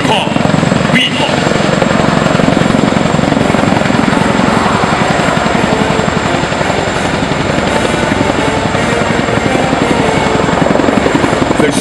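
A Chinook helicopter at a Republic of Singapore Air Force open house gives a loud, close, continuous rotor and engine drone that holds steady throughout.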